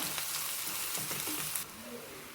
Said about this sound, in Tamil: இது நல்லா கொஞ்சம் அந்த வெங்காயத்தினுடைய பச்சை வாசம் மட்டும் போகிற அளவுக்கு வதங்கட்டும்